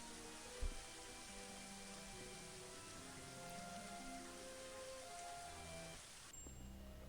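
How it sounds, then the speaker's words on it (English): Rain falls steadily in the video game Daggerfall Unity, a soft continuous hiss of droplets with a faint low hum and one brief soft knock early on, then cuts off near the end. "thank God the rain stopped, huh?"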